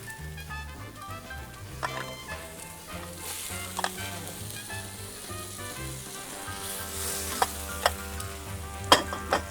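Vegetables sautéing in a pot for bean and ham soup, a gentle ongoing sizzle under quiet background music, with occasional sharp clinks and scrapes of a spoon against the pot.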